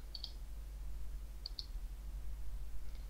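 A few crisp mouse clicks in small pairs, near and quiet, over a steady low hum, with no talking, as a theme file is chosen for upload on a free WordPress site.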